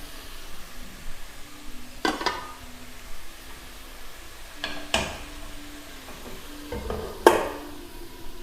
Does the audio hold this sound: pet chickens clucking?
no